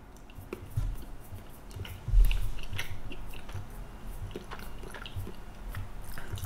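Someone chews a bite of Munster géromé cheese with caraway, soft, close, moist squishing and biting that comes in uneven bursts, with a stronger bite partway through.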